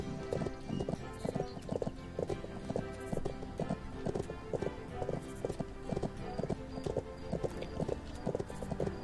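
Steady clip-clop of horse hooves from the Bibi & Tina at the Horse Farm video game, a rhythmic galloping pattern running throughout at moderate level, with occasional faint whinny-like tones.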